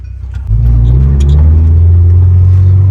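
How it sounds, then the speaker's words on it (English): A custom 1974 Datsun 620 pickup truck drives along, its engine picking up at about half a second into a steady, loud low rumble that holds close and continuous with no talk. "a little POV of driving the little Datsun"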